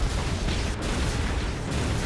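Cannons fire during a capital-ship space battle in a video game, a steady dense roar of booming blasts with no pauses.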